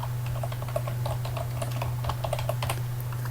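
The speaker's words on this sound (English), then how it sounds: "I'll just type here location." Rapid, steady typing on a computer keyboard while entering a location into an online calendar booking, close and continuous over a constant low electrical hum, with no talking.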